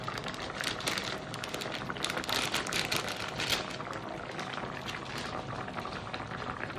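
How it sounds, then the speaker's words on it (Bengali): Potato curry (alur dom) boiling in a covered pot, a steady close bubbling and hissing with fine crackles that continue evenly throughout, no voices. "আলুগুলো সেদ্ধ হয়ে গেছে, ফুটে গেছে"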